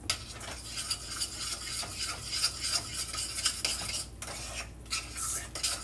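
A spoon stirs a cream-enriched shrimp and grits sauce in a pot, giving close, irregular scraping and light metallic clinks with no talking.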